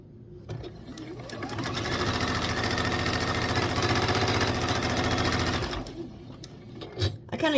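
Close, steady whirring and rapid clatter of a sewing machine stitching binding onto a vintage quilt table runner after a back stitch, starting abruptly, running continuously for about five seconds, then stopping with a few handling knocks.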